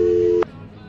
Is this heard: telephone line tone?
yes